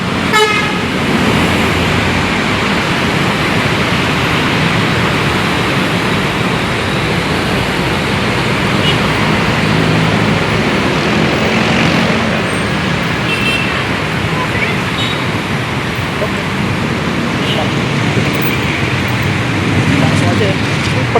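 TransJakarta bus on the T11 corridor amid Jakarta street traffic, a loud continuous roadway rumble with engine noise and occasional horn toots, with people talking over it.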